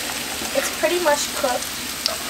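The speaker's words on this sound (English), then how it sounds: "We're just gonna stir it a little bit more so it doesn't burn." French fries, Istanbul-style potatoes, sizzle in hot oil in a pan as they are stirred, a steady close frying hiss with scraping stir sounds, while a person talks briefly over it.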